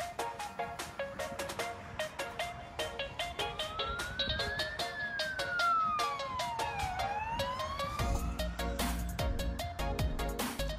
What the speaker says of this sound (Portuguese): Eu não gosto quando a ambulância passa